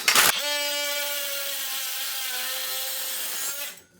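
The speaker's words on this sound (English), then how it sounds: "I'm going to be using the multi-tool again. Great Diablo blade, good for wood, metal, all kinds of stuff." Loud, steady buzzing whine of an oscillating multi-tool fitted with a Diablo blade, cutting near a tub spout during shower valve work, running continuously for about three seconds before winding down.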